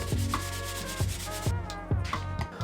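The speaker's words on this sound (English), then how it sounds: "I quickly do a bit more sanding for a change" Steady back-and-forth rubbing of sandpaper on wood, with rhythmic strokes about twice a second, close and fairly loud, with no voices.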